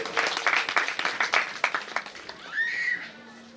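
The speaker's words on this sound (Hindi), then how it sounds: "सब लोग ताली बजाओ।" Audience at a Bhagwat Katha religious discourse bursts into brief, scattered rhythmic clapping, fading out after a few seconds as a faint tone lingers.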